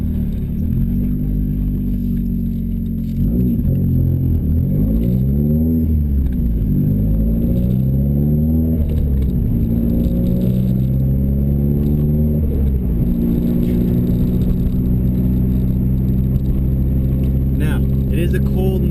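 A Nissan Silvia engine is run through a tuning pull on a cold night, droning loudly and continuously with repeated rising and falling sweeps of revs, a steady high whine sitting over the close, constant engine noise.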